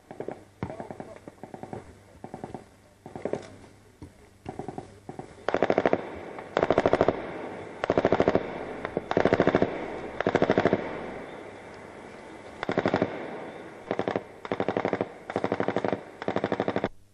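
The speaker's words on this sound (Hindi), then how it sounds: "ये विजुअल्स है एलओसी पर पाकिस्तान की ओर से हो रही फायरिंग की" Sustained bursts of automatic gunfire along the Line of Control in Poonch, rapid rattling volleys repeating every second or two with short gaps, loud and somewhat distant.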